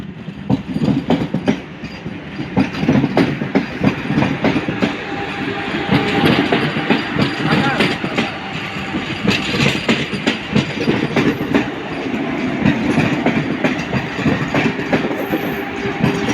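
The 22227 NJP–Guwahati Vande Bharat Express passes a rail gate with a loud, steady rumble and rhythmic clickety-clack of wheels on track, sustained close by throughout.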